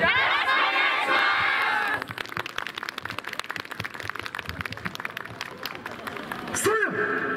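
A crowd at a yosakoi dance festival cheers and shouts, then settles into steady rhythmic clapping, loud and close, with voices calling out above it.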